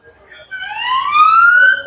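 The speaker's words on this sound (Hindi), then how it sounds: "एक बार सायरन की आवाज आ रही थी जो एम्बुलेंस की है या फिर फायर अलार्म की होगी" A rising electronic siren wails close and loud in one upward sweep, like an ambulance or fire alarm, with a faint voice briefly before it.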